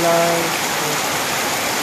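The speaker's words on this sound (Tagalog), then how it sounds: "lalong lumakas yung ulan" Steady, dense hiss of heavy afternoon rain pouring down in Barangay Cabuluan, with a brief snatch of voice at the very start.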